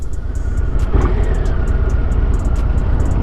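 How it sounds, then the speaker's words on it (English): A Harley-Davidson motorcycle rumbles past on the road, a loud, steady low engine roar heard close by from another bike while riding, with faint clicks overhead. "There goes another Harley rider right there."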